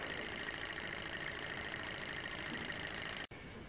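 An SH-021 coaxial swing-arm beta Stirling engine with almost no frame runs steadily, giving a fast continuous mechanical whirr with fine rapid ticking that holds even and close, then cuts abruptly near the end before a quieter hiss continues.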